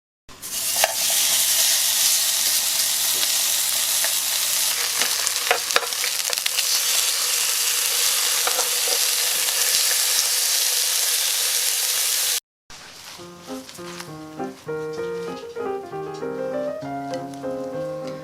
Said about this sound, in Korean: 삼겹살을 한쪽에 이렇게 구워 주었고요